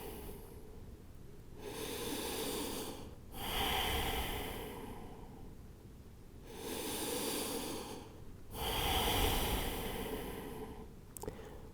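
Slow yoga breathing during a seated forward fold, close and quiet: long drawn inhales and exhales alternating in an even rhythm, about three full breaths with short pauses between, no talking.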